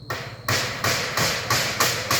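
Hammer blows strike wood while a small hut is being built, about six sharp, evenly spaced knocks ringing out close and loud, each fading quickly before the next.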